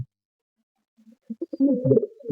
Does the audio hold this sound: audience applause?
no